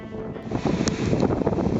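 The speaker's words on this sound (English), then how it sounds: "Wind started to get up and started to shift a little bit" Wind and sea wash over a yacht on a transatlantic passage as a squall approaches, a continuous loud roar of gusts buffeting the microphone with waves hissing beneath.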